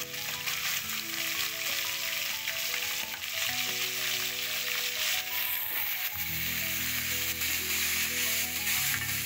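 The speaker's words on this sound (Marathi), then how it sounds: "आता कढीपत्त्याची पाने, कांदा टाकून तेलात" Curry leaves and chopped onion fry in hot oil for a dried Bombay duck masala, giving a steady, dense sizzle that stays close and continuous, with faint scraping beneath it.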